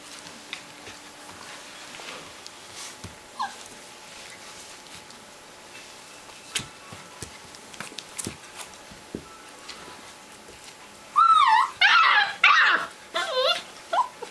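Old English Sheepdog puppies about 35 days old whine and yip in a cluster of high, wavering cries near the end, after a quieter stretch of faint rustling and someone talking softly.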